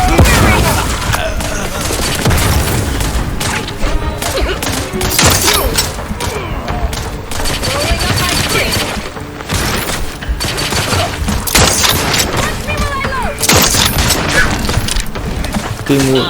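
Gunfire in Outer Worlds 2: dense, loud volleys of rapid shots and booms overlapping continuously, with game music and voices mixed underneath throughout.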